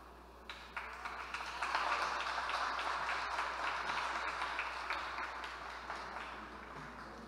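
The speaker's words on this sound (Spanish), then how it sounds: "despedimos con ese fuerte aplauso a los artistas circenses" An audience applauds circus performers at the opening of an arts and crafts centre, a steady wash of clapping that swells after a brief start and holds at moderate loudness, slightly distant and without talk.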